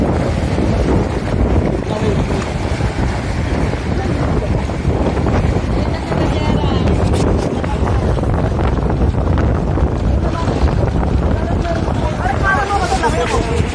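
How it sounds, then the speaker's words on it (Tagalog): Strong sea waves churning and crashing at a sanctuary in Maragondon, a loud continuous roar of surf mixed with heavy wind buffeting the microphone. "Grabe, lakas ng alon."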